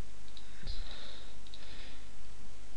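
A few faint computer mouse clicks sound over low background hiss, short and sparse, close by, with no speech.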